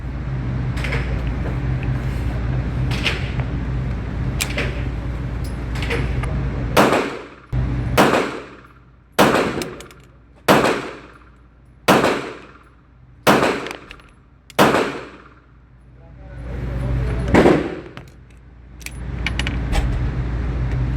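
A Staccato P pistol fires a string of sharp, loud shots at an outdoor range, spaced about a second apart, each cracking and ringing off over a steady background hum, with no talking.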